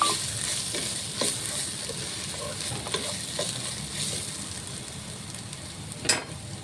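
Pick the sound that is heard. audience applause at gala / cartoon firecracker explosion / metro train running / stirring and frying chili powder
stirring and frying chili powder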